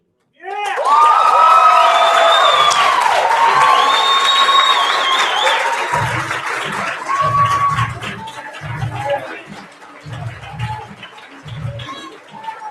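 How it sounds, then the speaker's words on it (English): An audience at a youth poetry slam bursts into loud applause and cheering that holds strong, then thins out into scattered clapping while a voice speaks over it. "keep those applause going for Thomas Jefferson"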